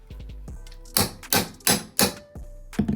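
A crowbar tapped down behind interior door casing trim: a few sharp, loud metallic knocks in quick succession close by, with lighter taps before and after.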